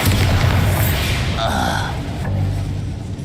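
The Bombarda blasting spell exploding in the video game Hogwarts Legacy, a deep booming blast followed by rumbling debris, loud and close, with brief voices mixed in.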